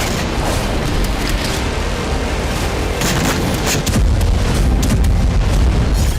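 Israeli tank fire, drone and missile strikes on Gaza make a dense, continuous roar of booms and blasts, loud and close, with no gap and a heavier rumble in the second half.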